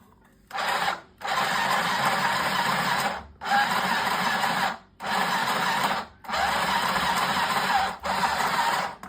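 A restored sewing machine, salvaged from a scrap-iron shop, runs on battery power in about six whirring motor bursts separated by short pauses, steady and close with no voices.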